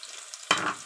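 Onions for a sweet potato leaf omelette hit hot oil in a pan with a sudden loud sizzle after near silence, then settle into a steady hiss.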